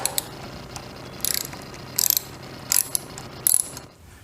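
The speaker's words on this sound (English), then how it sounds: "With a rag on top to protect the tank, we're going to remove the front two bolts." A ratchet wrench loosening the front gas tank bolts on a first-generation Yamaha FJR1300 motorcycle: four short bursts of rapid clicking spaced about a second apart, close and crisp in a quiet room.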